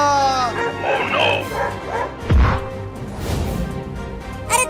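A dog barks and yips several times in quick bursts, close and loud, mixed with whimpering cries and a brief crash, while voices talk alongside.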